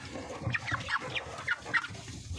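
Broiler chickens cluck and murmur softly in a crowded pen, short repeated calls overlapping at close range against quiet barn noise.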